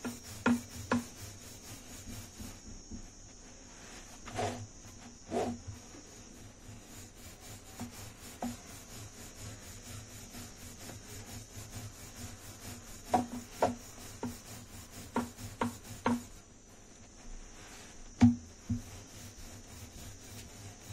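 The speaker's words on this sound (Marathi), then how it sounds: "हलक्या हाताने लाटायचं आणि ह्या ज्या कडा आहेत ना पहिल्या त्या कडा लाटून घ्यायच्या" A rolling pin softly rubs and taps as aloo paratha dough is rolled out with a light hand, quiet repetitive strokes with occasional louder knocks and no talk.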